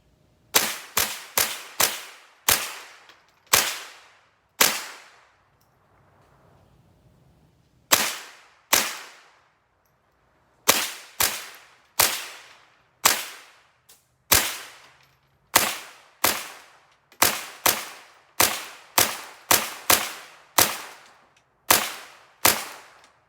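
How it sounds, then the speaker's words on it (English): Ruger 10/22 rifle fired one-handed, 25 sharp close cracks in quick irregular bursts with one brief pause, each shot ringing out and fading before the next, with no talking. "I'm gonna try this one-handed. Doesn't take but one hand to shoot a rifle"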